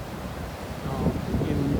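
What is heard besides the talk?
ocean waves breaking on shore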